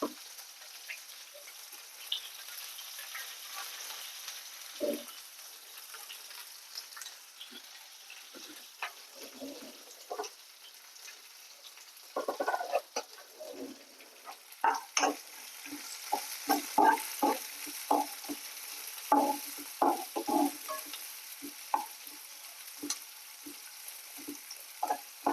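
Onion frying in a pan with curry leaves, a soft constant sizzle with scattered light stirring taps that grow busier and more frequent in the second half.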